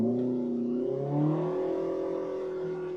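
A 2022 Polaris RZR Pro R side-by-side with an MBRP slip-on sport exhaust revs close by, its engine note climbing over about a second and then holding a steady, crisp drone.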